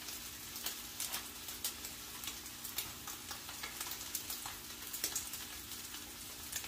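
Ribeye steak searing on a Blackstone griddle outdoors at about 475 degrees, a quiet steady sizzle broken by frequent faint crackles and pops.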